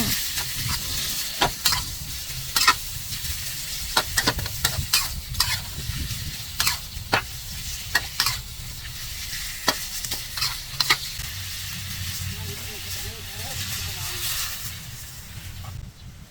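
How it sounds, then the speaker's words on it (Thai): Pork belly stir-fries with curry paste in a pan: a steady sizzle under repeated sharp scraping stirs and utensil clicks, close and fairly loud throughout, with a voice talking faintly at times. "จากนั้นใส่หมูสามชั้นลงไปผัดค่ะ"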